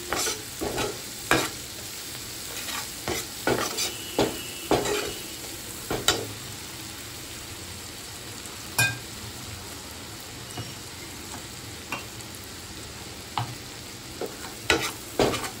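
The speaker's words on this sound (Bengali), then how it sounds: "ভালোভাবে সমস্ত মশলার মধ্যে ভালো করে মিশিয়ে নিচ্ছি" Spices with turmeric and Kashmiri chili being stir-fried for a pabda fish dish, a soft continuous sizzle broken by a series of sharp spoon scrapes and knocks against the pan at an uneven rhythm, close by, with no voices.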